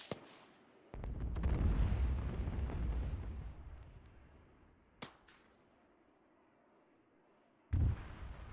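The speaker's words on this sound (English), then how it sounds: "here comes the airstrike." An airstrike explosion in the video game Arma 3 lands as a sudden deep boom that rolls and fades over several seconds, followed by a sharp crack and another heavy burst near the end.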